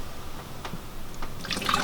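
Coolant pours into the engine of an Infiniti G35/350z, a short, close liquid trickle and gurgle that grows louder toward the end as the reservoir fills.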